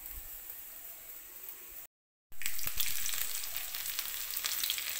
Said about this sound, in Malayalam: ഇനി ഇതിനകത്ത് നമുക്ക് കടുക് താളിച്ചിടണം.